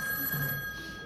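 A telephone rings once in a short burst inside a home, a steady electronic bell tone that stands alone with no talking over it.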